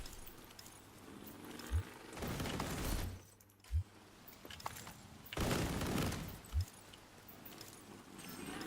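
Video game gunfire in a PvE shooter session, a few sharp distinct shots spaced several seconds apart amid bursts of noisy combat clatter, with little talk.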